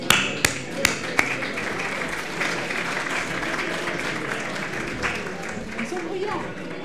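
Audience applause fills a gala dinner hall, opening with a few sharp claps and then settling into steady, dense clapping from a large crowd throughout.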